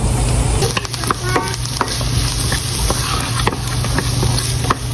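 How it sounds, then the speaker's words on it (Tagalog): Chopped onion sizzles steadily in hot olive oil in a pan, a dense close crackle with scattered clicks from stirring, with no voices over it. "Maglagay na ako ng mantika. Maglagay na ako ng onion."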